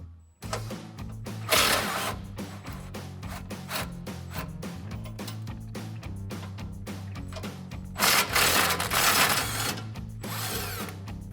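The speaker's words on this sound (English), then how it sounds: "you're gonna need a 15mm socket to get these out" Ratchet wrench with a 15mm socket and swivel loosening bumper bracket bolts on a 2017-2022 Ford F-250, rapid steady clicking pawl strokes with metallic clanks, close and continuous.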